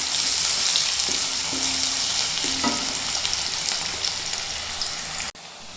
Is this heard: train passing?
no